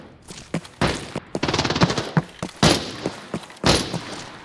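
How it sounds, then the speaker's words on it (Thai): Rapid bursts of close gunfire in the video game Arena Breakout: Infinite, including a quick automatic volley, with several loud heavy shots spaced through the clip. "เสียงปืนใกล้มาก"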